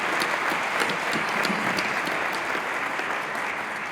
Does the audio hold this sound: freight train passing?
no